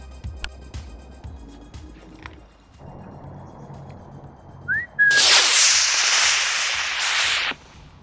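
A person whistles to trigger a Guardians of the Galaxy whistle-activated launcher: short rising whistle notes, then a loud rushing whoosh of a model rocket launch lasting a couple of seconds before cutting off.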